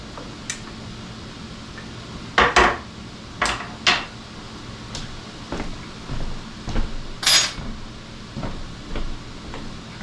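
Metal tongs clatter and clank against a cooking pot while komodo dragon hot sauce is being made, a series of sharp irregular metallic knocks over a quiet kitchen background, fairly close.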